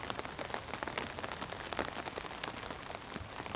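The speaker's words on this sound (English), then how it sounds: "As it stands right now, it's just a light rain that's falling." Light rain falls on a cot tent, a faint, steady patter of close individual drops with no voices.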